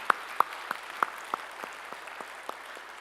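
Scattered claps from a church congregation during a Sunday service, a sparse string of about ten distinct hand claps at a steady rhythm, fairly faint and slowing toward the end.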